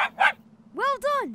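Cartoon dog barks twice in quick succession, bright and toy-like, followed by a voice speaking briefly in a children's farm-animal cartoon.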